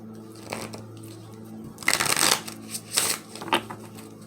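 Moonology Oracle cards are shuffled for a reading in several close, crisp riffling bursts with brief pauses between them, over a faint steady background hum.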